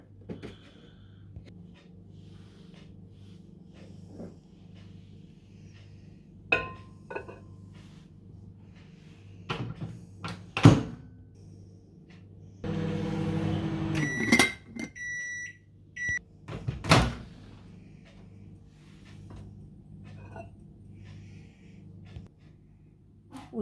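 A microwave oven heating milk, with its door clicking and thumping open and shut amid scattered kitchen knocks, a steady running hum in the middle and a few beeps.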